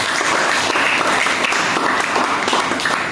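Classroom applause from students in a school lesson, a dense steady patter of many hands clapping at once, loud and close, sustained for several seconds without a break.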